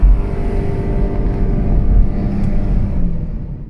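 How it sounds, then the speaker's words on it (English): A 2025 Mazda 3 GT Turbo AWD holds raised, steady revs while stopped at a red light, a low continuous rumble with slight fluctuations and no speech. "we were able to recreate the Mazda holding revs at red light"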